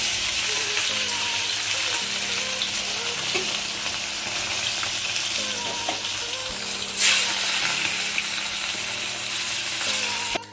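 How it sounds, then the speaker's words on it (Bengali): Fish pieces fry in hot oil in a wok for a Bengali fish curry, giving a steady, close hiss of sizzling with soft crackles and a brief louder burst partway through, with no talking. "কড়ার তেল গরম হয়ে গেছে এবার আমি মাছগুলোকে ভেজে নেব একে একে ভেজে নেব"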